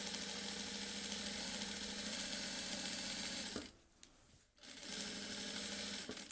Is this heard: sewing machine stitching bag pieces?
yes